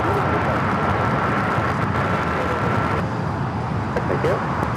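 A Boeing 777 freighter in red and yellow livery takes off from the south side of LAX at night, a broad, steady roar of jet engines at some distance mixed with airport and road noise.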